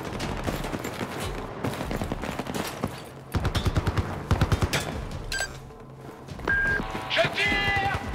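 Gunfire in the video game Battlefield 4 on the Tashgar mission: bursts of rapid automatic fire, loudest in the middle, mixed with other busy game sounds and voice-like sounds.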